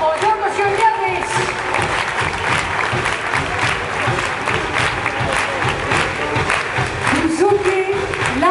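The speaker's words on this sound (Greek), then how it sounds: "Το πιο δυνατό σας χειροκρότημα εδώ για αυτή την απίθανη ορχήστρα" A large concert crowd applauds an orchestra at Technopolis in Gazi, a loud, sustained wash of clapping with faint musical tones at the start and end.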